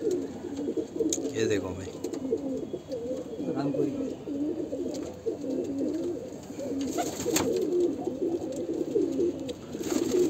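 Heavy pigeons cooing in a well-built loft, a dense continuous murmur of overlapping coos close by, with someone speaking briefly over them.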